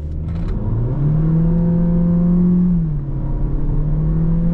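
A 2024 Cupra Leon 1.5 TSI 150HP with DSG gearbox accelerates hard with traction control off, its engine note climbing loud and close, then dipping briefly at a gear change before pulling again.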